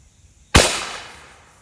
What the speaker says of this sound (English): When you close the bolt, that cocks the striker here, so we'll shoot at the upper target and see what happens here.